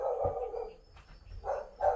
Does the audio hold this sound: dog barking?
yes